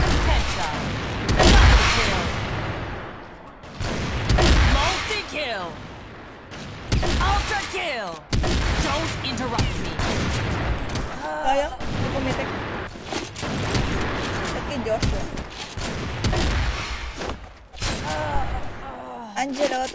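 A shooting video game fills the soundtrack with dense, loud gunfire and booming bursts that barely let up, layered with game announcer calls and excited players talking over the action.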